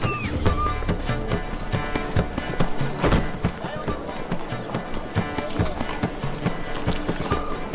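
A horse gallops in The Witcher 3: Wild Hunt, its hooves a quick repeating clip-clop rhythm, loud and close, mixed with game sounds and a brief voice.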